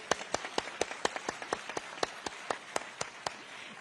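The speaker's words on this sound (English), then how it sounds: "Please give her a big round of applause." At a live event in New Delhi, an audience claps for a departing MC with a steady, evenly spaced run of claps that is fairly thin and moderately close.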